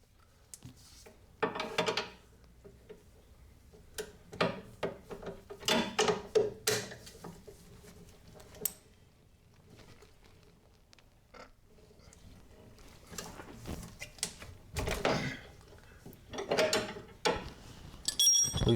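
A 17mm wrench loosening the brake hose connection on a Meyers Manx dune buggy brings repeated close metallic clicks, scrapes and ratcheting knocks in irregular bursts, with quieter pauses in between.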